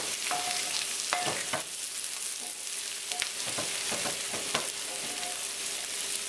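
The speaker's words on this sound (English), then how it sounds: "You're going to feel it start to fry up a little bit" Potatoes and onions with balsamic fry on high heat in a pan, a constant bright sizzle broken by scattered clicks and stirring scrapes up close.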